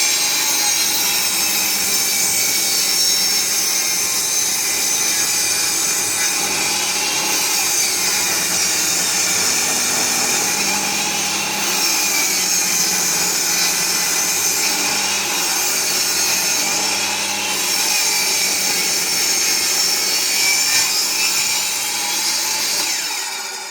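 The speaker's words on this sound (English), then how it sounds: "Now this is going to get loud because the saw is going on." A power saw cuts through hardwood skirting board in one long, loud, continuous pass, with a harsh steady whine and rasp that varies slightly as the blade moves along the wood, with no talking.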